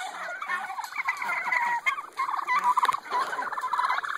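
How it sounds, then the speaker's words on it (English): A flock of hungry turkeys on a farm gobble in loud, overlapping bursts, with a steady chorus of calls running throughout. "Oh, those turkeys."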